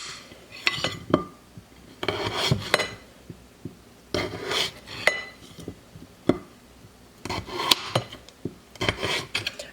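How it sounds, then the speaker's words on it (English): A knife slicing potatoes into wedges on a plate, a series of scraping cuts and clinks of the blade against the plate, coming in irregular clusters up close. "now I'm just going to cut the potatoes in wedges"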